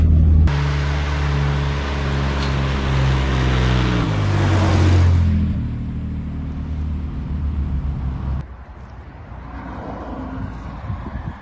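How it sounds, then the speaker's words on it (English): A Buick does a burnout, its engine roaring loud and steady with tire squeal and wind buffeting for about five seconds, then dropping to a quieter idle rumble with wind noise. "Yep, it'll do a burnout."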